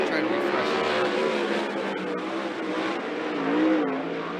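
410 sprint cars roaring around Skagit Speedway during hot laps and qualifying, a loud sustained engine howl that rises and falls as cars circle, with a commentator's voice running underneath.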